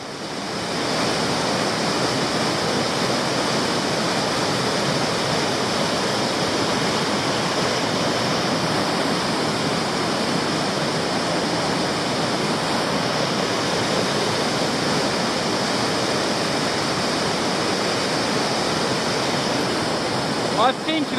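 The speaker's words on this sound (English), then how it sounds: "I'm at the very noisy base of Wellington Falls now." Roaring waterfall heard from its base at Wellington Falls in Tasmania, a loud, steady broadband rush of falling water that stays constant throughout with no pauses and no talking.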